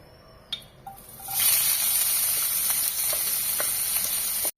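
Chopped onions, ginger, green chillies and curry leaves sauté in hot oil for chicken cutlet filling, a loud, steady, close sizzle that bursts in after a few soft knocks and holds without talk.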